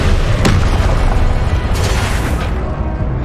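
An Incendio fire spell goes off in Hogwarts Legacy, a loud close roaring blast that holds as a dense rumble with sharp crackling bursts before tapering off, with no speech.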